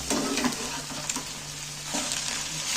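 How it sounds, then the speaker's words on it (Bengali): An egg fries in a pan while being stirred, a soft, steady sizzle with occasional scraping strokes, close and moderately quiet, with no voices. "নাড়াচাড়া করে আমি ডিমটা ভেজে নিচ্ছি"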